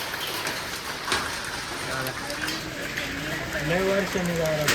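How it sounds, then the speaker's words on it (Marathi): Dense pattering of falling ice on surfaces fills the scene in a steady hiss with scattered sharper hits, while people talk over it. "गारा पडतात."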